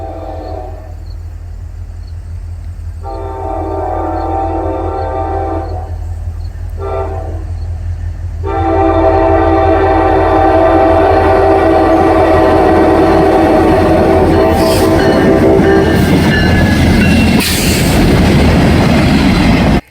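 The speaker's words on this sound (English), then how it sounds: "That's sick what the engineer did with the horn there." A loud train horn blares in long sustained blasts, broken by short gaps at first, then holding continuously over the heavy rumble of a passing train.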